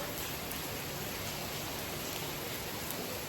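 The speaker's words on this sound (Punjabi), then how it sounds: "ਬਾਹਰ ਮੀਂਹ ਪੈ ਰਿਹਾ" Dense, steady hiss of heavy rain pouring down, a constant wash of noise without pauses or voices.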